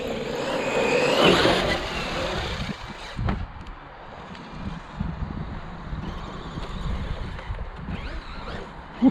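Traxxas E-Revo 2.0 electric RC car bashing around a gravel pit, with a loud whining burst near the start, then a steady gritty rumble of tires on gravel and bumps under wind buffeting the microphone.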